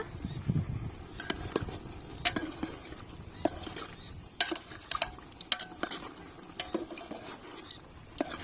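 A spoon scrapes and clinks in a pot while chicken curry with ginger garlic paste is stirred, giving irregular metallic taps over a soft, steady sizzle.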